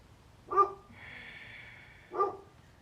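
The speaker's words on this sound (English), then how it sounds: "My dog, sorry. She's feeling left out." A dog barks twice indoors, two short sharp yips about a second and a half apart, with a quiet steady tone humming between them.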